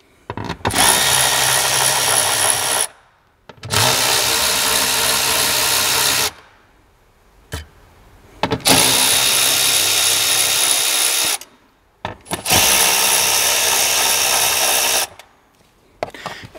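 Four loud bursts of a power tool undoing 10mm bolts on the metal service-plug cover of a hybrid vehicle, each whirring run lasting about three seconds, separated by short quiet gaps with brief clicks.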